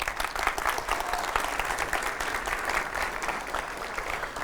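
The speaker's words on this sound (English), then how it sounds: "Big round of applause" Applause from a conference audience welcoming a speaker about to talk on code quality; a moderately quiet, dense patter of many hands clapping continuously throughout.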